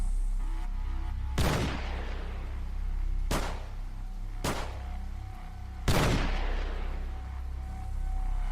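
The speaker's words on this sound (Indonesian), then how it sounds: "Suara tembakan terdengar lagi" Four heavy gunshots ring out at spaced intervals as a sound effect in a dramatized audio story about a massacre of villagers in Cibugel, Sumedang. Each sharp crack has a long booming decay over a low steady background, with no talk.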